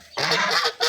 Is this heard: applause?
no